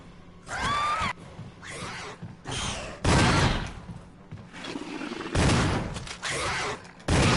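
Several heavy shotgun blasts fire in bursts in the Resident Evil remake as a hunter attacks Rebecca, loud and close, with a creature screech between shots.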